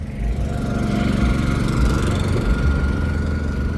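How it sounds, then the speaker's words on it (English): A small rental scooter engine idles roughly and continuously nearby, a sputtering, lawnmower-like drone with a steady low rumble and no pauses. "Sound like a little dead lawnmower."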